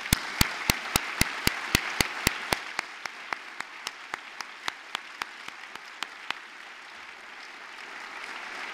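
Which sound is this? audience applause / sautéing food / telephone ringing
audience applause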